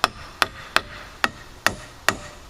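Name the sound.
hammering nails into wood for shed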